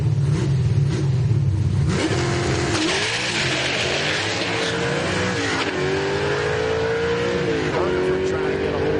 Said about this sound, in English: Bryce Hungerford, 95 Chevy Camaro. Big block, naturally aspirated machine.